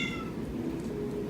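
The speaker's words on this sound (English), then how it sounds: "That's my cat." A pet cat gives a single short, faint meow indoors against a quiet background.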